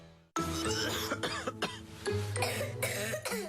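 Repeated coughing in a Vicks VapoRub advertisement, several loud, close coughs and throat-clearing bursts following one another over a low music bed.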